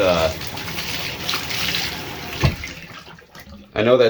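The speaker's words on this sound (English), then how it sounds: "we're just going to give this thing a quick rinse out and run our finger around it" Tap water runs and splashes while a tarantula's water dish is rinsed under it, with a brief sharp splash partway through and a louder gush of flow at the end.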